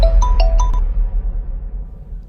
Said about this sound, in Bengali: দেখ তোর বাপের ফোন চলে এসছে।